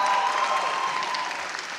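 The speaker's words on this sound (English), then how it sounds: "Give yourselves a round of applause." Graduates applauding at a graduate hooding ceremony, a dense, steady wash of clapping from a large indoor crowd that holds level and fades slightly toward the end.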